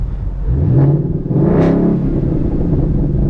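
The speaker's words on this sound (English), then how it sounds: "I'm gonna give you guys a quick rev before I leave and make sure it's recording" A Ford Mustang GT with Corsa Xtreme exhaust, close by, revs to about 4,000 RPM. A deep, loud idle rumble swells twice into throaty revs, the second one sharper and higher, then settles back to a heavy burble.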